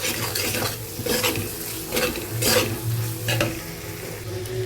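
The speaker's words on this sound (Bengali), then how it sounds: "মশলাগুলো একটু হালকা একটুখানি জাস্ট কষিয়ে নিচ্ছি।" Spices sautéing in oil in a pan give a close, steady sizzle, broken by rhythmic scraping and clinking as a spoon stirs them every second or so.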